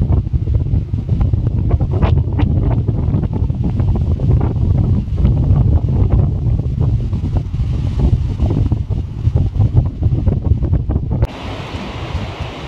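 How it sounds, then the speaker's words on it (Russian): Strong wind on a cliff, a continuous heavy roar buffeting the microphone with low rumbling gusts, easing abruptly near the end. "Ветер с ног валит."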